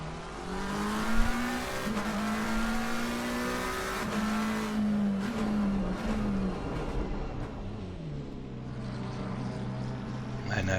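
Onboard a race car during a Kyalami endurance race: a loud, droning engine rising and falling through gear changes, with a sharp high-revving note, shifting down near the end, and a commentator's voice heard at times.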